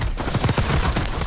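Call of Duty gunfire from a Jackal PDW in Urzikstan, a rapid continuous burst of automatic shots, loud and close, with no talk over it.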